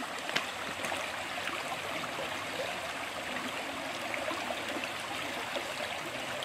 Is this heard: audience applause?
no